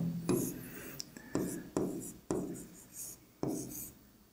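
Chalk or marker strokes on a board in an Urdu lesson, about six distinct sharp scrapes at irregular intervals, each starting with a crisp attack and fading, close and moderately loud with no talking.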